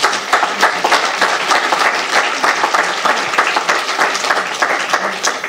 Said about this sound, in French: Je crois qu'on peut applaudir toutes ces associations qui œuvrent pour l'intergénérationnel.